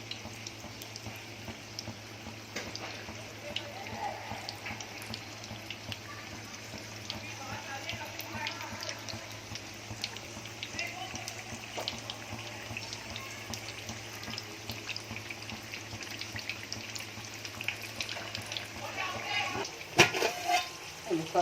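Alu vadi, colocasia leaf rolls, frying in oil that is not yet fully hot: a soft, steady sizzle and bubbling, close and continuous, with someone talking over it.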